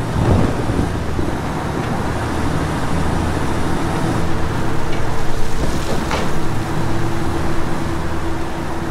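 A truck drives toward a cartel camp in Ghost Recon Wildlands, giving a continuous broad engine rumble with road and wind noise that stays steady and fairly loud throughout, with no voices.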